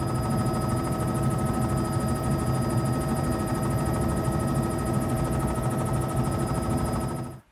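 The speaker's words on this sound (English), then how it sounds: "The helicopter is a very different experience from the airboat." A helicopter drones steadily overhead in the Everglades, its rotor chop and engine whine loud and constant before cutting off abruptly at the end.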